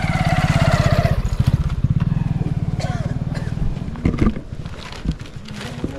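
A motorcycle engine throbs steadily up close on an off-road trail toward Torey Daha in Deukhuri, Dang, its rhythmic pulsing easing slightly as voices talk over it.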